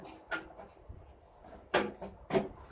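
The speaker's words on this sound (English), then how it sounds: "So here's your meter box door, and to put it back on," Metal meter box door lifted and fitted back onto its hinges, giving several separate clunks and rattling knocks spread over a few seconds, fairly close and moderately loud with no talking.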